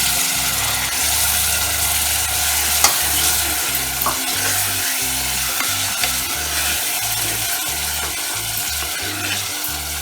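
Tomatoes for a Kerala-style prawn curry fry in a pan as a spoon stirs them, with steady sizzling and repeated rhythmic scraping strokes, close and loud, no talking.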